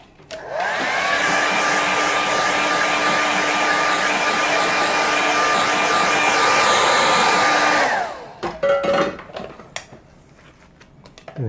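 A hair dryer blows steadily on a watercolour painting for about seven seconds, a loud, even whoosh with a constant motor whine, then switches off, leaving scattered small handling noises.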